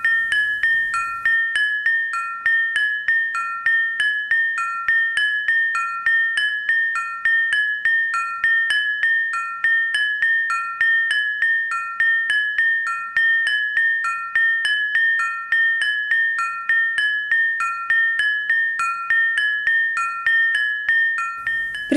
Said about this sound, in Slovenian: Med udarci prvega in drugega zvona udarja najvišji zvon.